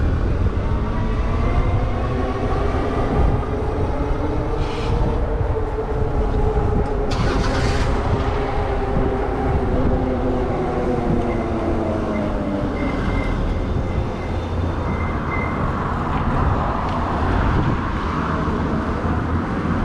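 A train rolls past nearby during an e-bike group ride, a steady loud rumble with droning tones and occasional squeals filling the whole stretch.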